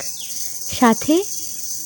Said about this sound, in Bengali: ঝিঝি পোকার গান।